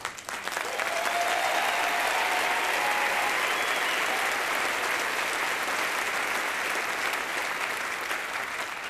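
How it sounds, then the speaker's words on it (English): Loud, sustained applause from a large crowd at an awards ceremony, a dense wash of clapping that holds steady throughout. "The remarkable honorees that deserve some applause."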